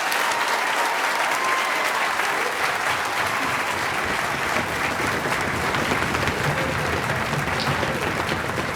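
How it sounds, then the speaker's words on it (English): Steady, full applause from a concert audience for a school orchestra at an elementary school's end-of-year concert, continuous clapping at even loudness throughout. "can you clap for them one more time?"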